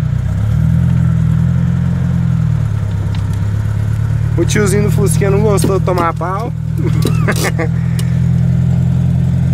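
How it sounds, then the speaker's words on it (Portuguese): Chevrolet Opala 82 four-cylinder standard engine revving and popping, fitted with a 4x1 header; loud steady low engine rumble with a rev rise near the start, someone talking over it midway. "Tá pipocando, mas pipocando, tá bom."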